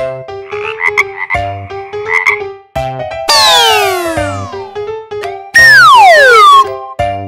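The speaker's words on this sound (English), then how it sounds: "frog." A frog croaks in short, loud, repeated bursts, set against bright musical tones and swooping sweeps. No one speaks.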